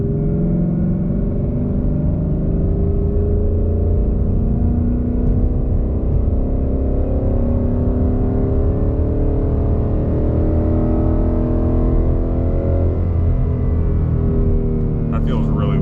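A 2020 Mustang GT engine climbs steadily to 2,500 rpm, a loud, smooth, rising drone held throughout with no break, heard up close with no talking over it.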